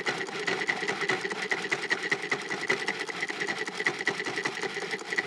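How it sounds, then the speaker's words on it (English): A grinder runs steadily throughout, breaking down an egg roll filling mixed with crushed chili pepper flakes, giving a loud, continuous buzzing whir with fine rapid texture and no speech. "Now we're gonna grind this up."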